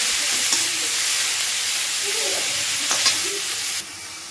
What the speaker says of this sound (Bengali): এখানে সবজিগুলো আমি তেলের মধ্যে ভালো করে ভেজে নেব।